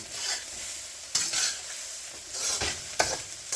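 Fried rice is stirred and tossed in a carbon steel wok, with a steady hiss of sizzling and a few sharp scraping strokes of the spatula against the metal, close by.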